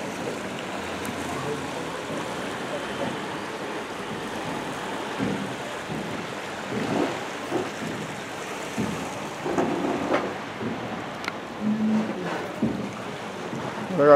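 Steady wash of sea waves rolling onto Manase beach in Hayama, Japan, with a few louder surges breaking near the end.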